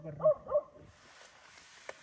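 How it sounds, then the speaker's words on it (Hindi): A dog barks twice in quick succession outside a tent at night in the Gul Danda forest, fairly close and loud, followed by quiet night air and a faint tap. "देख भाई कुत्ता नॉन स्टॉप भौंक रहा है, उसको कुछ दिख रहा है भाई।"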